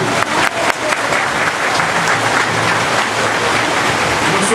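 A crowd at a work-site inauguration in Gonaives, Haiti, breaks into sustained applause, loud and steady throughout with no voices over it.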